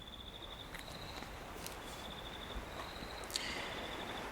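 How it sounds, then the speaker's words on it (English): Crickets chirp steadily in a quiet summer outdoor setting, a thin continuous high trill running throughout with a few faint clicks and no voices. "So let's add a little bit of seaside to these crickets."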